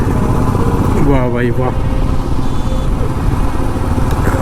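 A Royal Enfield Himalayan BS6 motorcycle rumbles steadily on a Republic Day ride, with loud continuous engine drone and wind buffeting throughout, while a rider briefly speaks over it.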